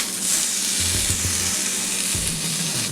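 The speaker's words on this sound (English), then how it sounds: "Hear that sizzle?" A peppered tuna steak sears in a hot pan with a loud, continuous hiss of sizzling oil, and a few soft clinks and bumps from the pan come through close by.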